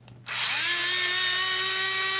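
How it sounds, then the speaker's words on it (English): A power screwdriver spins up and runs steadily at close range, with a rising whine that settles into a high, constant hum while undoing the screws on a multimeter case. "Let's undo all the screws."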